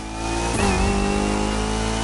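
Engine of the Genti Automobile Accolone luxury car in the racing game The Crew Motorfest, a steady close hum with a brief rising rev early on before settling into a smooth sustained drone.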